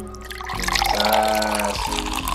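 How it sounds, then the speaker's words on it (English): Craft beer pours into a glass with a steady liquid trickle and fizz, running continuously and fairly close, with no talk over it. "That is a beautiful pour, ladies and gentlemen."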